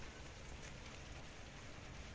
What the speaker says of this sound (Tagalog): Ayan na po, umuulan na.